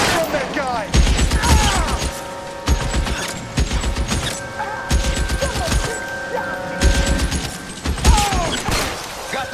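Gunfire during a shootout in L.A. Noire: bursts of loud, rapid shots repeat in clusters across the whole stretch, separated by brief lulls, with a voice shouting amid the noise.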